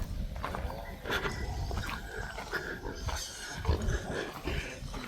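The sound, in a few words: pig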